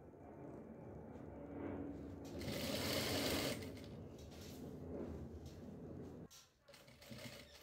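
A sewing machine stitches fabric for a sofa cover, running in a continuous whirring buzz that swells louder in the middle and then stops briefly before starting again near the end.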